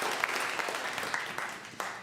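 A congregation applauds at a Sunday service in a spiritual center, steady dense clapping from many hands filling the room, with a few louder claps standing out near the end.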